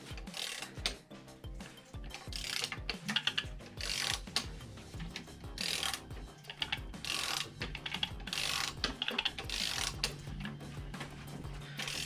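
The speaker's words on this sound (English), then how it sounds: "Belt doesn't sound too happy, if I'm honest." Fiat Coupe 20V Turbo engine being turned over, giving a quiet mechanical whirring with irregular ticking, rattling and squeaky belt noise; no talk.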